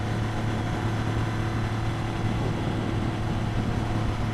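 A Triumph motorcycle cruises around 65 mph in the slow lane of a dual carriageway, a steady loud engine drone blended with rushing wind, continuous and unbroken with no speech.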